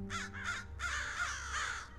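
A crow caws several times in a row, short harsh calls with brief gaps, fairly close and clear over a low steady background hum, heard alone without talk.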